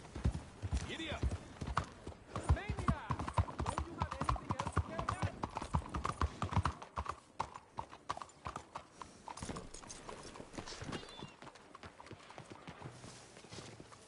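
A horse gallops in Red Dead Redemption 2, with rapid, loud, close hoofbeats that settle into a slower trot as someone speaks over them.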